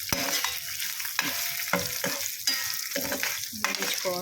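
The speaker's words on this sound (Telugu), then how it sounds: "ఇవి వేగుతున్నాయి." Coriander seeds and dried red chillies dry-roast in a pan, with a dry, crackly sizzle broken by repeated, rhythmic scraping stirs of a spoon, about one every half second, close and alone.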